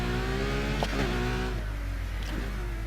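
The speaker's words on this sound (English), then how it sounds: "Oh, this car's noise is not done justice." A Ferrari engine in Need for Speed Heat hums at a steady idle-like drone with brief rev blips rising and falling, close and continuous throughout.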